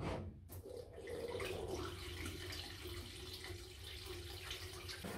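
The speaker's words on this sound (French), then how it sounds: "Donc là, je vais remplir de l'eau." Water runs steadily into the coolant tank of a CNC milling machine's lubrication system, a continuous close splashing flow that starts after a brief pause and keeps going at even strength.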